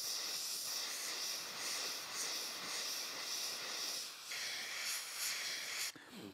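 Steady airbrush hiss spraying paint onto a Warhammer Age of Sigmar miniature, a continuous close airy jet with slight shifts in pressure and a brief cut near the end.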